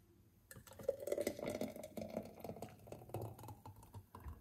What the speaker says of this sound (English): pour out our drink right here